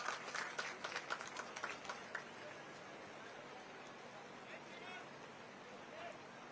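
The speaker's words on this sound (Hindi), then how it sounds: "तालियों के साथ अभिनंदन कीजिएगा" Applause from an audience at an Independence Day ceremony. A dense, close burst of clapping starts loud, fades over about two seconds, and gives way to a steady hum of crowd noise.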